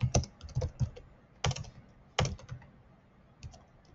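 Typing on a computer keyboard while writing a code comment: a close series of uneven key clicks in quick clusters, with a few louder strikes standing out and no talk.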